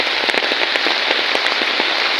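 Heavy rain pours steadily onto a hard surface, a dense, loud, close patter of drops with no voices.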